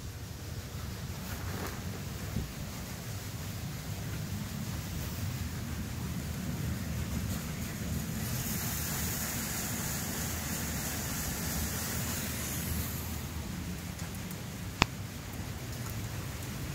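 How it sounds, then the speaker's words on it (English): Corn kernels drop into a feed mill mixer as an auger pushes them in, making a steady, even rushing hiss like rain, with faint low machine rumble underneath and no talk. "You can hear the corn as it drops into the mixer"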